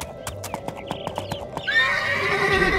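Horses neigh and whinny with clip-clopping hooves in the fantasy video game Two Worlds, a run of rhythmic hoofbeats followed by a loud, drawn-out whinny, close and prominent with no talk over it.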